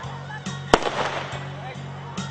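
Fireworks at a school annual day give one sharp, loud crack followed by a crackling, fizzing burst, heard against a steady low electrical hum and brief background noise.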